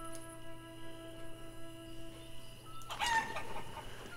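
Chickens in the farming video game Life is Feudal cluck steadily over a droning in-game background, then a rooster crows loudly near the end.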